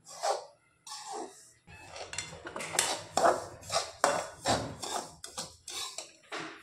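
A spoon scrapes and knocks against a pan as gram flour is stirred and roasted, in a series of irregular metallic scraping strokes, close and fairly loud, with short pauses between them.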